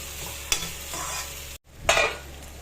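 Prawns fry in a covered pan and are stirred now and then, producing a close, steady sizzle with two sharp scraping stirs and one brief silent cut.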